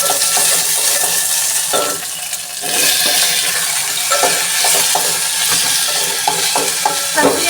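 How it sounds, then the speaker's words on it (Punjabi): Ginger, green chili and tomato frying in a spoonful of desi ghee in a pot, a steady loud sizzle with repeated scraping stir strokes throughout. "ਸਭ ਤੋਂ ਪਹਿਲਾਂ ਮੈਂ ਇੱਧਰ ਤੀਲੇ ਵਿੱਚ ਇੱਕ ਚਮਚਾ ਦੇਸੀ ਘਿਓ ਪਾਇਆ ਉਹਦੇ ਵਿੱਚ ਅਦਰਕ ਹਰੀ ਮਿਰਚ ਨਾਲ ਹੀ ਇਹ ਵਾਲਾ ਟਮਾਟਰ ਪਾ ਦਾਂਗੇ"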